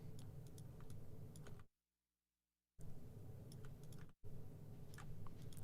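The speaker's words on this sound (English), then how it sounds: "Me just clicking." Mouse clicks on a computer during song mixing, a steady run of quick close ticks broken by two short silent gaps.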